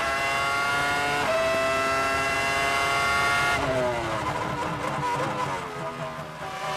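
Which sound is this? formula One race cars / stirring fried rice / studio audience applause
formula One race cars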